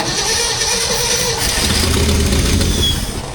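A 1968 Ford F-100 Ranger engine cranks and struggles to catch on an auxiliary fuel supply, a steady, loud mechanical churning that runs throughout with no talk.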